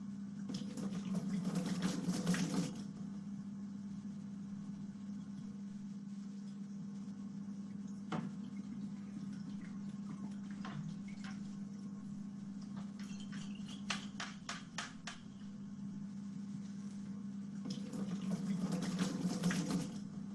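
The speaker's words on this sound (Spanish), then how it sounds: "Solamente utiliza agua como para enjuagar." Tap water gushes briefly to rinse a container, then stops for a long stretch under a low steady hum, and runs again near the end.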